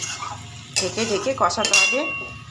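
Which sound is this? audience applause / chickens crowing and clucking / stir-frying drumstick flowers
stir-frying drumstick flowers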